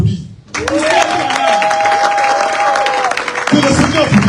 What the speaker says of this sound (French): Est-ce que tu peux applaudir?